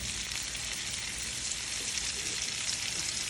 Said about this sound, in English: we're going to take that butter, we're going to move it around a little bit and just let it sear